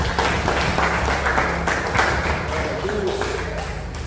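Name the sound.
congregation applause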